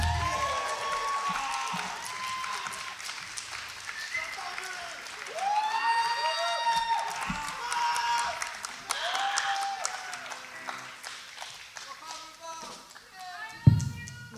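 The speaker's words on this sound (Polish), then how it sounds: "Wielkie brawa!" A concert crowd at CK Zamek in Poznań applauds as the band is welcomed onstage, sustained clapping and cheering with a voice speaking over it, swelling midway and fading toward the end.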